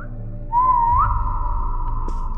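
A short whistle sounds in a video game set in a furniture store, a clean tone sliding upward before holding a steady pitch, loud and alone over a low background hum.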